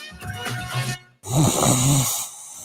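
Two loud, close snores, a rattling inhale followed by a pause and a second longer, rasping snore.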